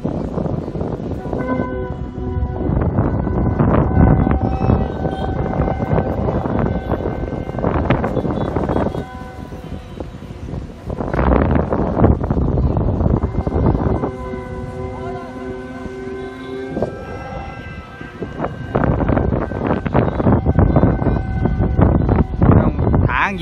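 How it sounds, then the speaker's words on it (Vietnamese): Strong wind buffets the camera microphone during giant kite flying, a heavy, continuous rumbling roar that swells and dips, with steady tonal whistling layered over it. "Gió rất là nhiều đấy. Gió các bạn có thể nghe được tiếng camera."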